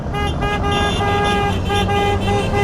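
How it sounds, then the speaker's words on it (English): Car horns honk continuously in dense traffic, with sustained overlapping tones layered over the low rumble of road vehicles, loud and close throughout. "Cars are honking, you can hear it."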